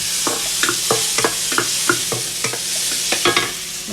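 Tomatoes being stirred into adobo frying in a pan, with a steady sizzle under a run of close, regular scraping strokes of the spoon against the pan.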